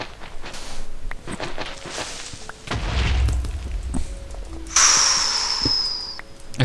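Deep booming blasts go off in Minecraft, mixed with thuds and a sharp rising whistle, all fairly loud and close.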